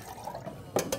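Milk poured into a steel pitcher for a mocha in a café, with a quiet trickle and then two short liquid splashes near the end.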